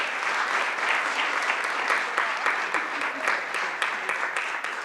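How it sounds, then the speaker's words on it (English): Steady applause from an audience at a school board of education meeting honoring the coaches, a continuous dense clatter of clapping lasting throughout at moderate loudness, with faint voices underneath. "I'd also like to applaud for our coaches and have them come up as well."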